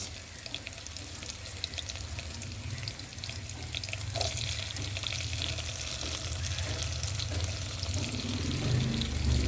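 Chili, capsicum and chopped tomato frying in a pan for pasta, a steady crackling sizzle that grows slightly louder and fuller, with a low rumble underneath.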